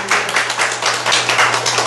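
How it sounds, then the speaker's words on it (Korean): An audience at a political party members' speech event applauds, a dense, continuous patter of clapping at steady volume throughout. "박수 부탁합니다."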